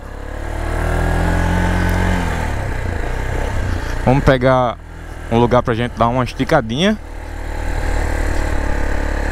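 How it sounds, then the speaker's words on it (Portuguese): A Honda Nova SHI 175 EFI motorcycle engine runs steadily and close at idle or low revs on a test ride, with someone speaking briefly over it midway. "Vamos testar a moto."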